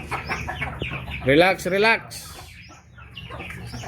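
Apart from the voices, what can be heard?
domestic ducks quacking in their new enclosure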